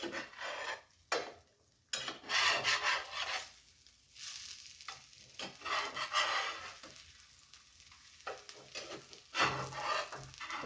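Freeze-dried eggs being flipped and scraped in a hot carbon steel skillet, a continuous close sizzle with rasping spatula scrapes throughout.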